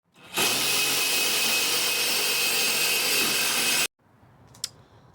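A power drill runs continuously and close for about three and a half seconds with a steady whine, then stops abruptly, leaving quiet room tone and one small click.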